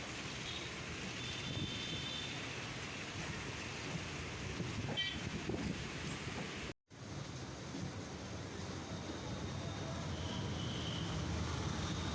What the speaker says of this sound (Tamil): நம்ம ட்ரெயின் வந்திருக்கு